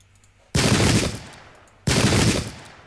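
Musket volleys in a battle strategy video game set at the Battle of Ulundi, two loud crackling volleys a little over a second apart, each decaying slowly, with no voices.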